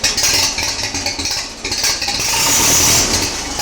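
A Ferguson tractor engine, running with a little choke, revs up loud and close in a rough, pulsing chug over a few seconds.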